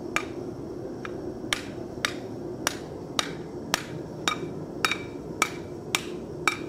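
A steel frying skillet is hammered against a flat steel anvil while being forged, about a dozen sharp metallic strikes at a steady, slightly uneven pace over a low background hum, close and clear with no talking.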